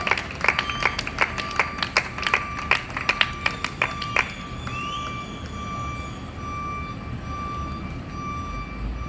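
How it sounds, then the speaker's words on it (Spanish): Church congregation claps as an offering to the Lord: a few sharp, separate claps ring out in the first half, then fade into a steady background hum with tonal ringing, no voices over it. "den un aplauso como una ofrenda al Señor"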